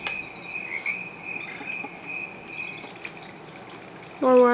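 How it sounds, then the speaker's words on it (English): Steady high-pitched chirring of recorded crickets from a baby swing's nature sounds fills the background, faint and continuous, before a brief louder tonal call cuts in at the end. "It's like nature sounds."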